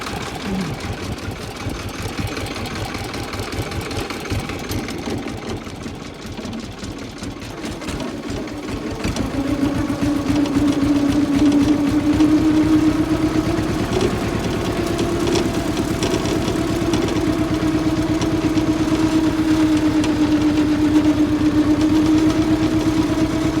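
A mini tractor fitted with a disc hiller runs with a steady, loud engine drone that rises in pitch and volume partway through as it works, heard close with no talking.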